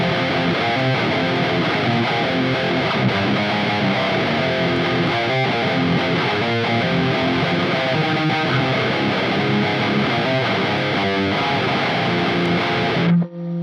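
A loud, heavily distorted electric guitar riff chugging continuously through a Quad Cortex amp modeler, dense and gritty, cutting off abruptly at the end.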